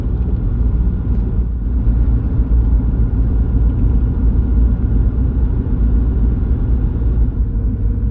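A Mitsubishi Pajero diesel engine runs steadily while driving during DPF regeneration, a constant low rumble and whir inside the cabin with no talk.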